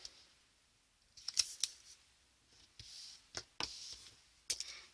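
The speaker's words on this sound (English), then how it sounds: "Just going to use my acrylic block to trim it off." Acrylic block being used to trim paper for an envelope split-page Christmas mini album, giving a few sharp, close scraping clicks and cuts spaced irregularly over a quiet background.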